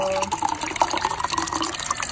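Liquid pouring while making Milo ice candy, a steady splashing trickle with small bubbling drips, close and fairly loud, running continuously for about two seconds.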